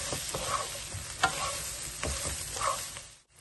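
Brinjal pieces frying in a pan are stirred, giving a steady close sizzle with a few scraping strokes of a spoon before a brief drop to near silence at the end.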